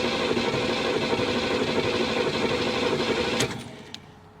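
A flood-damaged old carburetted car engine cranks without catching, producing a steady, close mechanical whir for about three and a half seconds before cutting off into near silence.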